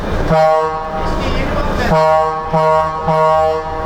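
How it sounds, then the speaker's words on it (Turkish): A loud, harmonic truck horn blares close by, one long blast followed by three shorter honks in quick succession. "Şimdi birinci korna."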